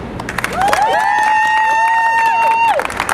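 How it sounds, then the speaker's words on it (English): A crowd claps and cheers for Senator Marty Connor at an endorsement event. A long, high, whistle-like cheer rings out over the close, lively applause throughout. "Let's give a big round of applause for Senator Marty Connor"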